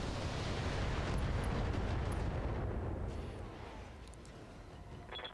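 Mech weapons firing in the video game Battletech, a broad rumbling roar like a barrage or explosion that holds strong and then gradually fades, with a few faint high chirps near the end.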